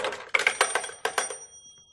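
A telephone rings in bursts of a bright electric bell tone, two short rings in close succession before the sound trails off, heard alone and fairly near in a quiet indoor room.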